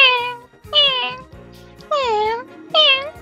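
A person imitates a cat meowing, producing four drawn-out, nasal mews in a row, close and loud with short pauses between them.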